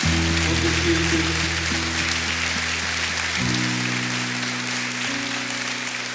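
Church congregation clapping at a worship service, a steady broadband patter of applause running throughout under sustained organ or keyboard chords.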